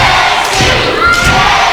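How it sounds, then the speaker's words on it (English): Wrestling arena crowd roars loudly and steadily during a title contender match, a dense wall of cheering with scattered shouts and a dull thud or two. "Crowd's starting to pull for Jesse."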